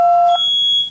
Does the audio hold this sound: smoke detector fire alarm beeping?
yes